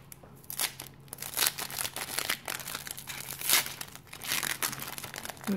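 Stiff trading card booster packs being torn and crinkled open by hand, a steady run of close crackling, ripping foil rustles with several louder bursts, no talking.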